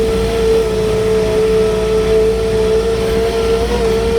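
Forklift driving over dirt at a retaining wall block delivery, a loud, steady engine drone with a constant hum and rumbling tires throughout, no voices.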